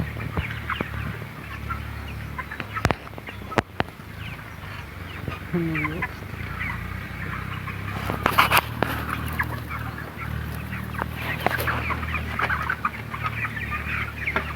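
Chickens cluck continuously inside a poultry farm shed during the cold season, with overlapping clucks and occasional louder squawks against a steady background hum.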